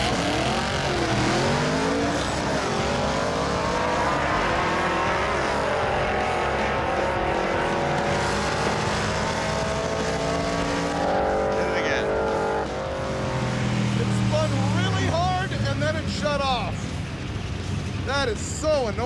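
A drag race car launches down the strip, its engine a loud, continuous, revving roar with shifting harmonics throughout, and speech over it.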